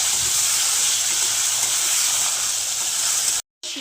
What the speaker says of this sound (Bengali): এবার শিমগুলো একটু ভাজা ভাজা করে নেবো